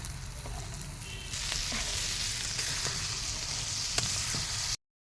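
Mashed brinjal goes into a pan of frying vegetables, chillies and crushed chilli thecha for Maharashtrian bharit, giving a steady close sizzle that swells louder midway, with occasional spoon scrapes and stirring knocks.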